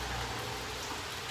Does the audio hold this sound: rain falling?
yes